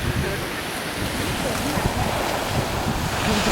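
Sea surf breaks against grooved rocks below a coastal cliff walk in Bray, Ireland, as a continuous roar of waves mixed with heavy wind buffeting the microphone.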